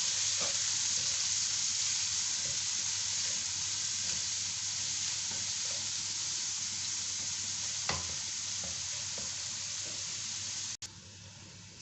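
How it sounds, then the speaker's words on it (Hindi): Chopped onion frying in oil for a tandoori chicken macaroni dish, a strong steady sizzle running unbroken with a couple of faint clicks and an abrupt thump near the end, nobody talking. "इसी ऑयल में हम डाल देंगे प्याज चॉप किया हुआ"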